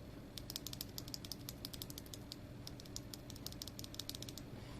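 Rapid keystrokes on a keyboard fitted with Wuque Studio Heavy Tactile 5-pin switches, a noisy, clacky tactile switch, tapping in quick irregular bursts, close and clear over a low steady hum, with no one talking.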